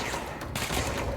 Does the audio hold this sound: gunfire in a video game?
yes